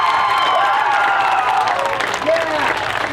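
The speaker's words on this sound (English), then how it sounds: "Let's give them a big old hand." A stadium crowd at a dedication ceremony for Woodruff Stadium applauds and cheers loudly and continuously, a dense wash of clapping with whoops and voices mixed in.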